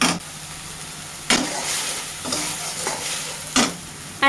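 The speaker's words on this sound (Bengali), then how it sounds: "আর আমি এখন বাটা মশলাটাকে ভালো করে ভেজে নেব" A spice paste of ground onion, mustard and green chili frying in a pan, giving a steady sizzle with a few louder stirring scrapes at intervals, close and with no talk.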